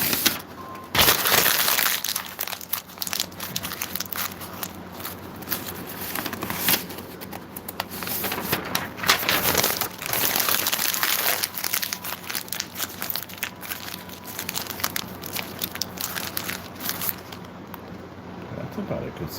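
Sheets of paper are crumpled and squeezed by hand into a ball-shaped meteor for a cardboard model: dense, continuous crackling and crinkling, close and fairly loud, with bursts of sharper crunches.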